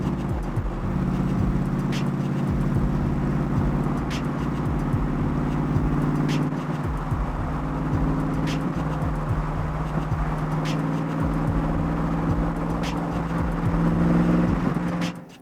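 A Factory Five 427 Cobra Shelby replica drives with a loud, deep V8 engine drone, holding steady then easing and building again through gear changes, close and alone without talk.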